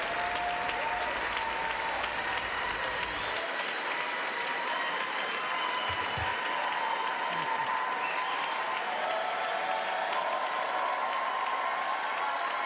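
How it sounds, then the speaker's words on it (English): Sustained applause from a large chamber audience at a State of the Union address, a dense steady wash of clapping that carries on without letup for the whole stretch. "At least Moscow Mike had the decency to applaud."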